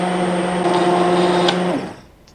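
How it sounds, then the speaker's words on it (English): A kitchen blender purees pumpkin soup with bits of onion and garlic, a loud steady whirring motor close by for nearly two seconds before it cuts off and winds down. "it's taken those little bits of onion and garlic and it's pulverizing them"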